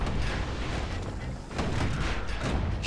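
Ship guns fire in the video game Bastion as a security skiff pulls up portside, giving loud rumbling booms that blend into a continuous roar with a short dip midway.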